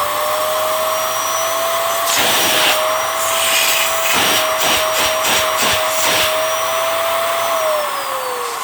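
A Miele Dynamic U1 upright vacuum cleaner runs continuously with a steady roaring whine. A clear motor tone shifts slightly as settings change, rhythmic pushing strokes whoosh over the floor, and the pitch drops at the end.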